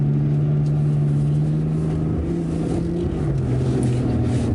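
A BMW G80 M3 Competition xDrive engine held at full throttle, a loud, steady, close drone with a sustained low tone and no break.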